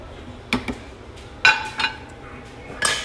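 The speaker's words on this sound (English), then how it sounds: "And then I'm gonna give it a quick stir." Brown cilantro lime rice being stirred in a cooking pot, a few separate metallic clinks and scrapes of a utensil against the pot, close by and with no speech.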